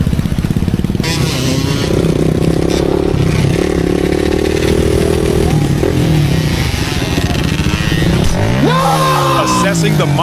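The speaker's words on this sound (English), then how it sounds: "the rider loses balance and slams hard onto the concrete while his motorcycle flips violently down" A motorcycle on a highway roars loudly close by, then crashes after a wheelie, with scraping and clattering as it flips along the concrete, followed by engine revving and a voice talking over it.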